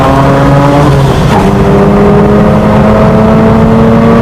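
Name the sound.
rotary-engined Mazda RX-8 race car engine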